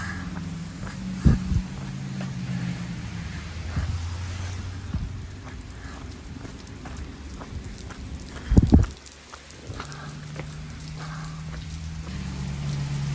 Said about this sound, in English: by the time I got on the roof, it started raining even harder